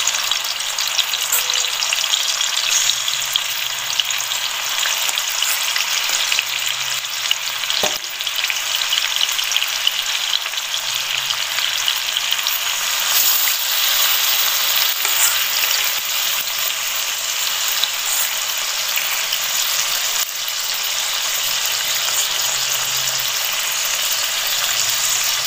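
Chicken pieces for ghee roast frying in a pan over a medium gas flame, a steady, close, continuous sizzle with faint stirring scrapes throughout.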